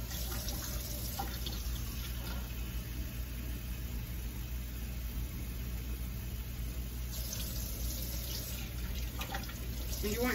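Steady running water from a tap, a continuous broadband hiss that holds evenly throughout with a faint background hum.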